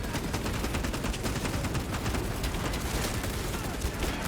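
Heavy bolter fire in Space Marine 2 pours out as a dense, unbroken stream of loud, rapid gunshots with no pauses, filling the whole stretch at steady intensity.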